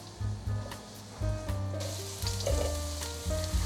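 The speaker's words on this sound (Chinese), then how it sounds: "先把红萝卜炒至半熟。" Carrots stir-fry in a wok of hot oil, a bright crackling sizzle broken by repeated spatula scrapes and tosses in an uneven rhythm, close and loud with no talking.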